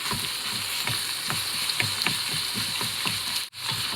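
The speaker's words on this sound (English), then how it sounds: "I love cooking with wooden utensils, especially since this is a non-stick pot. I just want to get all this mashed up." Ground beef frying in bacon fat inside a non-stick pot, steady loud sizzle with repeated scraping and knocking as a wooden utensil breaks the meat apart, brief pause near the end.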